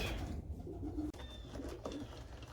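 Domestic pigeons cooing inside a loft with breeding nest boxes, a few soft low coos repeating close by over steady background noise, with no talking.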